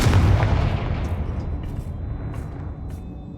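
A single loud blast from the Confringo spell in Hogwarts Legacy booms up front, then decays into a rumbling tail with faint crackles.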